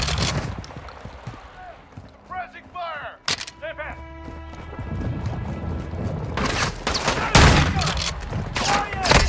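Gunfire rattles in Modern Warfare 2, with sharp single shots and rapid bursts that build to heavy, dense volleys, while voices talk excitedly over the shooting.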